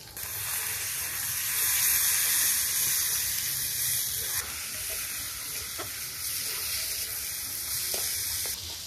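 Drained rice being fried in masala in a wok, a loud steady sizzle and hiss with occasional spatula scrapes, close up and with no talking.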